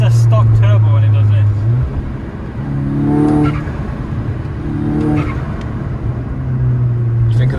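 A turbocharged Volkswagen GTI engine with a stock KO4 turbo pulls hard through first gear, its pitch climbing in repeated surges, with people talking over the loud, close motor.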